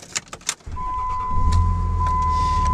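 A Dodge 3500 single-rear-wheel 4x4 six-speed diesel ranch truck cranks and fires after a few small clicks, then settles into a loud, close, steady diesel rumble.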